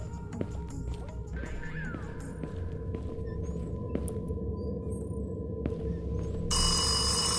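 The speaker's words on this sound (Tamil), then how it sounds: "இந்த ஃபோன் தானே அடிச்சது." A telephone rings inside the horror video game Kamala, a steady ringing over a dense background of game noise and ambience, with a brighter buzzing burst near the end and no speech.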